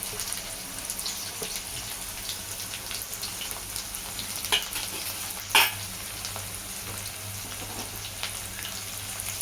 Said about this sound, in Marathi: आपण कांदा मिरची हे सगळं कढीपत्ता वगैरे जरा परतून घेऊया.